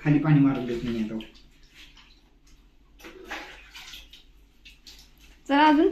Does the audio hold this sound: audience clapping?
no